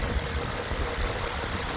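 Renault Samsung SM7 2.3 V6 EX2 engine misfiring at idle, a steady, rough low rumble with uneven knocking pulses, close and continuous with no talk.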